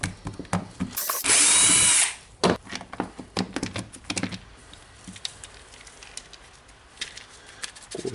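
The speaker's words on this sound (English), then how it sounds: "Of course removing the screws. There are 3 screws here in the handle." A Hitachi DH26PB hammer drill being taken apart: a burst of loud broadband whirring from a power driver near the start, followed by scattered clicks and small tool handling noises as screws are removed from the handle.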